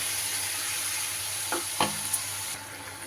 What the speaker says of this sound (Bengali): একটু নাড়িয়ে চাড়িয়ে নিচ্ছি